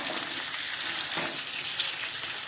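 Sliced onions fry with garlic, green chilies and curry leaves in a pan, giving a steady, even sizzle with a faint crackle throughout and no voices.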